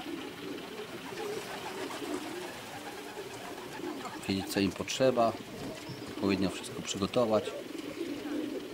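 Racing pigeons coo softly in the background while someone talks over them, their low burbling calls continuing throughout.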